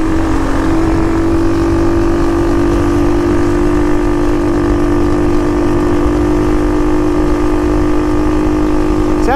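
A carbureted motorcycle engine drones steadily and loudly from close by as the bike rides along a road, with a constant tone and wind rumble throughout.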